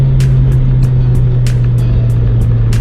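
A Honda CR-Z with a supercharged 1.5-litre engine drones steadily from inside the cabin while driving, a loud continuous hum with regular faint ticks and no talk.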